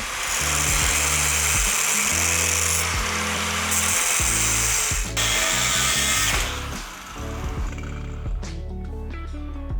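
A power tool cuts through metal bar stock during Mustang metal work: a loud, close grinding whine that runs in several long bursts, pauses briefly and restarts, then tapers into lighter scraping and clatter.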